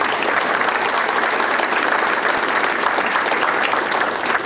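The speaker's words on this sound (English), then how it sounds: "So please give them a round of applause." An audience at a Yom HaShoah commemoration ceremony applauds steadily, a dense, even wash of many hands clapping throughout, fairly loud and without speech over it.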